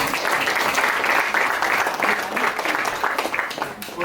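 A gathered audience at a family introduction event applauds steadily, a continuous wash of clapping at moderate volume that keeps up without pause.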